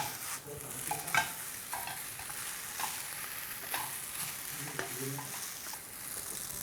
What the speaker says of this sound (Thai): เราจะผัดต่อด้วยระยะเวลาไม่นานนะครับ ประมาณสักครึ่งนาทีใช้ไฟแรงนะครับ